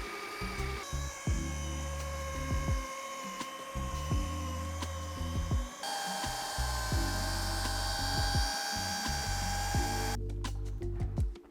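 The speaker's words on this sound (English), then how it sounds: "we get the rotary machine out with some heavy cut and we get them gone" A rotary polishing machine with heavy cut compound works scratches out of the paint on a Jaguar F-Pace, giving a steady, close motor whine that drops in pitch partway through and runs continuously without speech.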